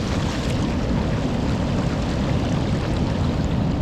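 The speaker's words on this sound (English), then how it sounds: "with all the massive waves that come crashing towards us" Big sea waves crashing on Perran Sands beach in cold weather, a loud continuous roar of surf and rushing water close by, with no voices.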